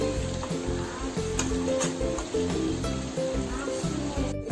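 Local chicken curry sizzles and fries steadily in a pan as it is stirred, giving a continuous close crackle with soft rhythmic scraping. No voice is heard over it.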